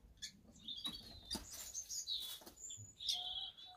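A pet bird gives quiet, rapid chirps and tweets up close, interspersed with faint scratching and rustling movements.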